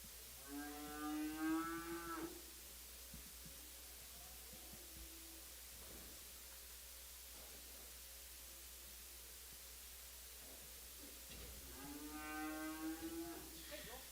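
Cattle low twice at a livestock calf and stocker auction, each moo lasting about two seconds at the start and end, over a steady hum and faint clatter.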